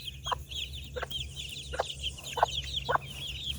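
A mother hen with chicks clucks in short, repeated bursts, several in a row at a moderate distance, over a steady low background hum.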